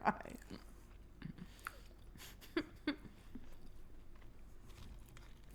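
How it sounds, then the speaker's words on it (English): Someone chews a very dry snack, with a few distinct crunchy bites and intermittent soft mouth sounds close to the microphone, otherwise quiet. "It's one of the driest snacks I've ever had. I'm still chewing it."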